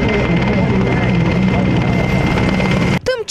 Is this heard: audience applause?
no